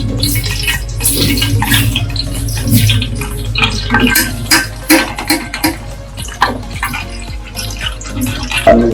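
Water sloshing and splashing in a metal pot as it is rinsed during cooking, with steady running water, scraping and clinking of metal throughout, close and fairly loud.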